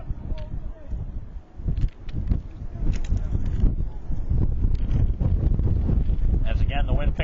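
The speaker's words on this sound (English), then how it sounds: "As again the wind picks up." Gusty wind buffets the microphone at an outdoor high school baseball game, a steady low roar that builds and holds throughout with faint indistinct voices underneath.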